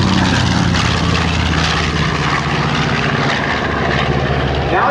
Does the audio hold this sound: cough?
no